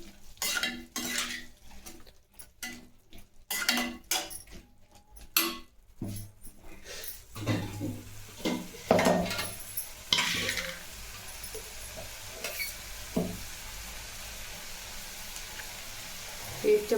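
Bitter gourd curry with yogurt and tomatoes is stirred in a pan, a utensil scraping and clinking against the metal amid light sizzling, busier early and settling into softer stirring.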